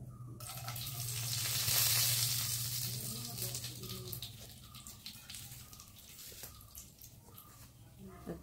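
Four or five cloves, cardamom and cinnamon tempering in hot oil in a kadai hiss in a broad sizzle that swells, peaks and then eases into a lower steady fizz with small crackles.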